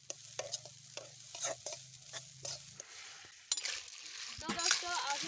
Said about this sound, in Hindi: अभी मैं फ्राई कर रही हूँ।